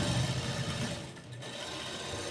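A sewing machine stitches lightweight fabric for palazzo pants in a steady, fast mechanical whir that runs close and continuous, with a brief dip near the middle.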